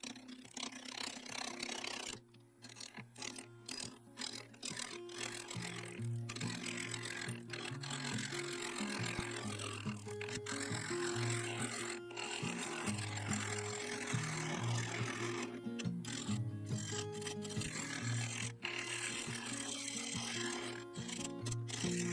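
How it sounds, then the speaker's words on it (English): A 3/8 bowl gouge cutting into wood and black epoxy resin offcuts spinning on a lathe, a continuous close scraping whir with humming motor tones and brief pauses between light cuts, no talking. "I used a 3/8 bowl gouge to gently nibble away at the top of the protruding offcuts, working my way down to a level surface"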